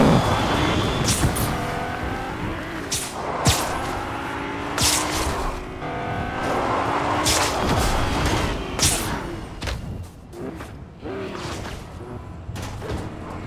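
A Lamborghini drives in Fortnite, its engine revving and roaring continuously with brief tire squeals and skids, while a player talks over parts of the gameplay.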